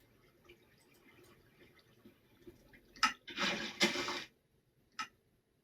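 Water flowing in a Minecraft farm, heard as a quiet mechanical trickle followed by a couple of loud splashing gushes and one short final splash.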